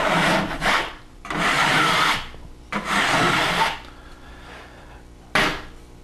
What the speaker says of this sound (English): You can totally scrape back all the lap marks,